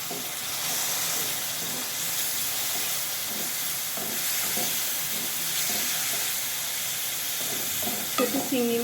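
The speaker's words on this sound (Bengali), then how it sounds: "একটু নেড়ে চেড়ে দিয়ে দিচ্ছি ছোটো গুঁড়া চিংড়ি।" Bitter gourd and potato frying with small shrimp, stirred in a hot pan: constant sizzle with repeated scraping stirs, plus a couple of utensil knocks near the end.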